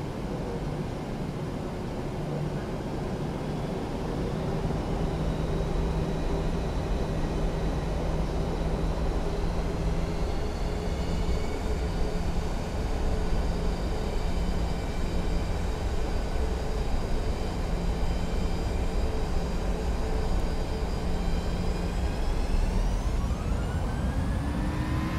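Boeing 737-800 jet engines on a takeoff roll in the PMDG flight simulator game: a loud, continuous roar with a steady whine layered on top, the tones climbing in pitch near the end as power builds.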